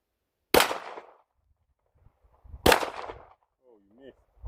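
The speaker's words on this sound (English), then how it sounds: "I'm supposed to hit him with the small gun." A Springfield 1911 A1 9mm pistol fires two loud, sharp shots about two seconds apart, each with a quick decaying tail in otherwise quiet surroundings, followed by a brief voice.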